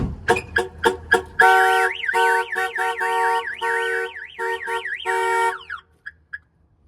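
A two-way remote car alarm on an Aerocoupe chirps rapidly several times, then breaks into a loud warbling siren tone that cycles up and down before ending in a few short beeps.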